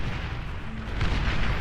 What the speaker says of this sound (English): Big ass explosion right smack in the middle of Barcode, behind their front line